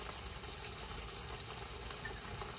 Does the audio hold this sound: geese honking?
no